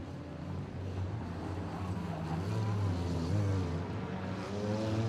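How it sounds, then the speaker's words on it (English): Wingless sprint cars racing in a feature event at night, a continuous droning engine roar with rising and falling pitch as the cars circle the track, moderately distant and steady. "8 laps to go in Wingless sprint car feature."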